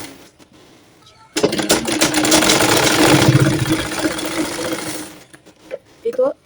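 Stitching a baby girl's butterfly-sleeve top, a sewing machine starts after a short pause and runs in a loud, steady whir for about four seconds, then stops, followed by faint handling noises.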